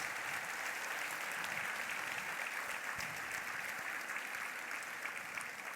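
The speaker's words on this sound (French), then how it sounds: "je voudrais qu'on lui fasse un tonnerre d'applaudissements" Sustained audience applause at a civic reception in Gujan-Mestras honouring a young girl, dense steady clapping from a crowd throughout, moderately loud and even with no talk over it.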